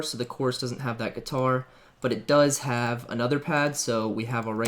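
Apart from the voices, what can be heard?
None of the usual background noises is heard.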